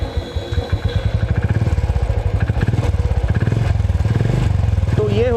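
A stock Royal Enfield motorcycle is started with the self-start button and settles into its loud, rhythmic thumping idle close by, with a brief rising tone near the end.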